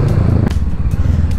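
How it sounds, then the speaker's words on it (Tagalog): A Kawasaki Ninja 650 motorcycle rumbles steadily while riding through city traffic, its engine loud and close throughout. "At ngayon, gamit ko si Ninja 650."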